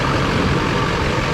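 An LLY Duramax diesel pickup engine idling close by, a steady loud rumbling clatter with no change in pace and no voices.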